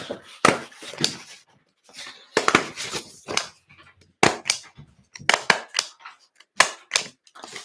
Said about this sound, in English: on the end that you want bound together, we're gonna staple it shut